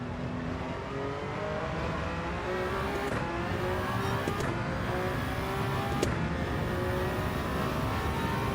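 A race car in a racing video game, its engine droning loudly and steadily while the pitch climbs through rising gear sweeps, with a faint tire squeal or click near the end and no talk.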